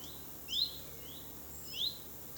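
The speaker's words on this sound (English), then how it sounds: "I've just heard the sound again, and it seems to be attached to some kind of warbler." Warbler calling outdoors, two faint high chirping phrases about a second apart over quiet background hiss, heard at a distance.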